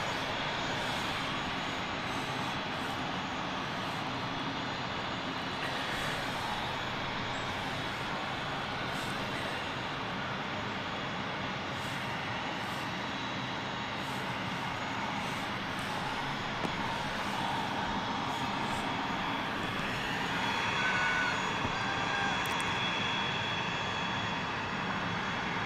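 A KLM airliner arriving from Amsterdam at London City Airport gives off a steady, distant engine rumble and roar that holds evenly throughout, with no voices.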